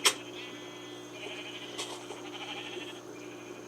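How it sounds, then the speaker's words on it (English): Sheep bleating in a Minecraft build, free-range sheep in a farm area: a sharp click opens, then a wavering bleat or two rise faintly over a quiet steady hum, with no talking. "These are the free-range sheeps."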